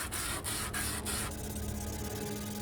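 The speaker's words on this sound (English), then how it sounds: "used some medium grit sandpaper, along with a sanding block, to remove the extra" Rhythmic rasping strokes of medium-grit sandpaper on a sanding block rubbing back and forth over wood filler, four quick passes followed by a steadier, softer scraping.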